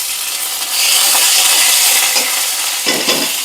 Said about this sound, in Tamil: தட்டி வச்சுருக்கிற பூண்டு கருவேப்பிலை இதையும் சேர்த்து நல்லா மிக்ஸ் பண்ணி விட்ருங்க